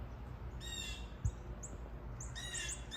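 Cardinals and other birds chirp from a tree on a cloudy, cool November morning, scattered short bright calls at moderate distance over a soft outdoor hiss, with one brief thump.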